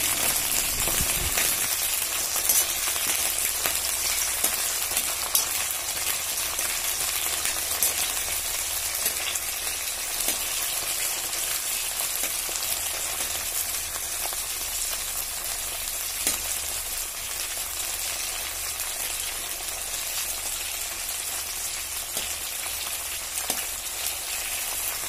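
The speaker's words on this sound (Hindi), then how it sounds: "हरे मिर्च को थोड़ा और पकाएं।" Green chillies fry in a kadai with a steady, close sizzle that fills the whole stretch, crackling and popping faintly throughout after an early splash of water.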